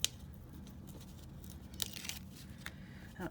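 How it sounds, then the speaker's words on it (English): Adhesive backing being pulled off paper card pieces, close and quiet, with a few short tearing and crinkling bursts over a soft background hiss. "let's go to pulling this backing off."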